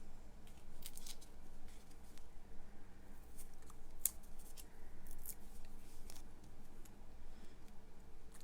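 Scissors snipping paper card for daisy flower cards, a steady run of quiet, close, rapid snips and ticks continuing throughout, with no talking.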